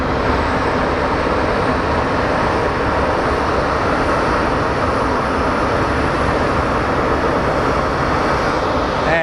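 An airliner in Canyon Blue livery at Phoenix Sky Harbor airport gives off a loud, steady jet engine roar that stays close and constant throughout, with no talking over it.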